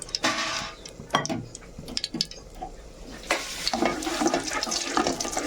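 Oil hisses and sizzles in a hot pan while a utensil scrapes and stirs, with bursts of crackling frying noise and clinks of the pan.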